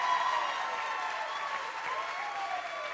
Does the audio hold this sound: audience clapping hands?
yes